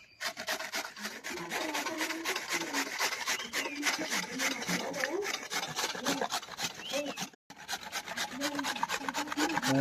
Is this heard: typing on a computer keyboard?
no